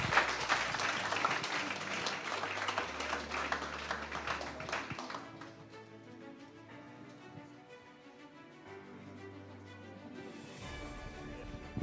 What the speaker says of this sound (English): Big round of applause now for the one and only who actually helped putting this thing together today is Adrienne